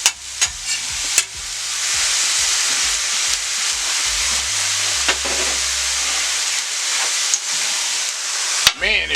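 Onions, pastrami and shaved oven-roasted turkey sizzle loudly and steadily on a hot steel griddle, with intermittent sharp scrapes and clicks of a spatula stirring the meat.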